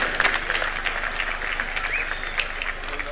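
A crowd at a Mashujaa Day celebration in Kitui, Kenya gives sustained applause for Governor Dr. Julius Malombe, dense steady clapping from many hands throughout, fairly close and loud.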